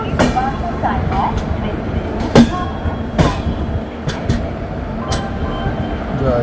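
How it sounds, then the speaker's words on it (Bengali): Shalimar SF Express pulling out of Puri station from a platform, a continuous rail rumble with occasional sharp clanks and squeaks of the carriages, close and steady, with some voices in the background. "একদম ট্রেন রাইট টাইমে ছাড়লো 8 নম্বর প্ল্যাটফর্ম থেকে পুরী স্টেশনে।"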